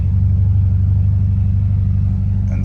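A Novitec and RYFT-modified Ferrari F8 on the move, its engine a steady, heavy low rumble with constant road drone, loud and close, holding an even tone throughout without sharp revs.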